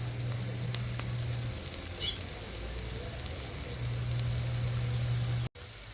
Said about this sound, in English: So you have to let the curry fry good